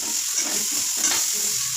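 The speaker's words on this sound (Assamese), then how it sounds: "আৰু কেৰাহী তেল গৰম হৈ গৈছে। সেইকাৰণে মই কণীকেইটা বহাই দিলোঁ।" Eggs frying in hot oil in a wok, a steady close sizzle with soft crackling throughout and no talk.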